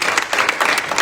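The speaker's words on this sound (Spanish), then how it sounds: "Denle un aplauso a Jesús" A church congregation claps together in a dense, lively burst of applause, close and loud with brief uneven swells, no voices over it.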